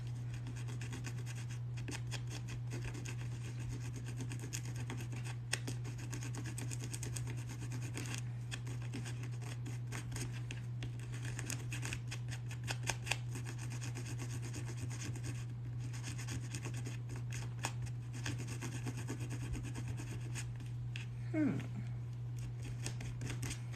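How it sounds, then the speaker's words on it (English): Buffalo leather for a clutch purse is sandpapered in rapid, rhythmic rubbing strokes, close and fairly faint over a steady low hum, with a voice speaking at times. "Let's sandpaper this."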